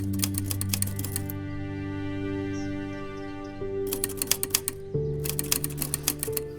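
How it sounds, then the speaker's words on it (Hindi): A repaired manual typewriter types in quick bursts of sharp metallic key strikes, close and distinct, over a steady background music bed with a pause in the middle. "अभी देखो मेरा टाइपराइटर ठीक हो गया, सही काम कर रहा है।"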